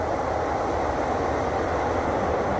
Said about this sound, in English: It's a noisy train.